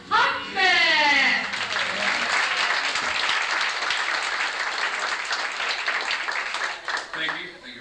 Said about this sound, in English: please put your hands together and help us welcome Scott Huffman.